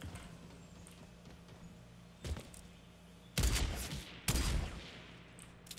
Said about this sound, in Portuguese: Quem que tá atirando?